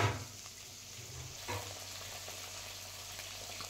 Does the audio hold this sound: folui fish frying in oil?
yes